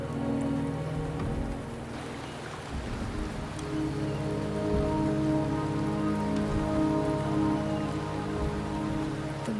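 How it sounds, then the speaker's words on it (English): Steady rain falls in the video game Wuthering Waves, a dense, continuous patter over a low tonal music bed, fairly loud and unbroken, with no talking. "The rain is subsiding"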